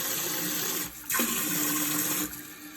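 Water from a newly installed handheld bidet sprayer hisses steadily in a bathroom, with a brief break near the middle before the spray resumes and then tapers off, heard close and alone.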